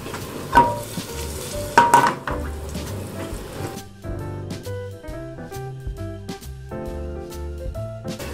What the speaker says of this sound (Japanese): 弱火に落としてにんにくの風味油に移していきます